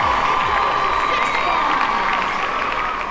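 Arena crowd at the ABU Asia-Pacific Robot Contest in Ulaanbaatar, Mongolia cheering and shouting continuously, a broad energetic roar with scattered whoops and high young voices throughout.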